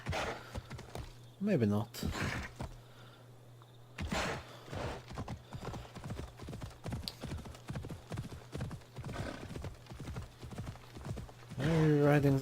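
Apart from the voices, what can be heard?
horse hooves clip-clop while riding in Assassin's Creed Odyssey video game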